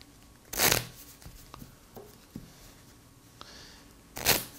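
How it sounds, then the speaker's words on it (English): A deck of playing cards is shuffled on a table for a game of solitaire: two loud, quick riffling bursts at the start and end, with soft card taps and handling between them. "shuffle real quick."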